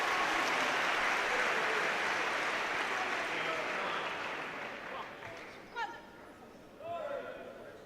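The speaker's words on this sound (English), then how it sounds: "the crowd here desperately trying to lift the home players" A crowd at a Commonwealth Games badminton match between England and Scotland claps and cheers loudly, then the noise fades away. A commentator talks over it.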